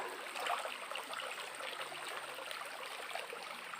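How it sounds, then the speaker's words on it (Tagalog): Clear river water flowing beneath rocks, a faint, steady rushing and trickling with no voices. "sa ilalim dumadaan yung tubig"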